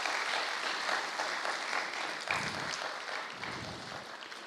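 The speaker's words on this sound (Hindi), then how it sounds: "हम एक हाथ की ताली से उनका स्वागत करते हैं।" An audience gathered for a spiritual talk applauds to welcome a guest speaker, a steady wash of clapping at moderate-to-soft level that tapers slightly toward the end.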